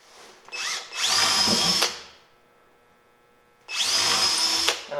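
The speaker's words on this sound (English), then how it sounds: "Drilling into the workbench here" A power drill bores a small hole into a wooden workbench in two loud, sustained bursts separated by a quiet pause, the motor whining up to speed each time before cutting off sharply.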